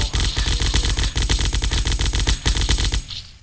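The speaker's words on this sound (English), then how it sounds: "Assault rifle. Assault rifle." Automatic assault rifle fire in a zombie-wave shooter video game, heard as a loud, continuous rapid burst of shots at an even rhythm for about three seconds, then cutting off and fading.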